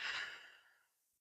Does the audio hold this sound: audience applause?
no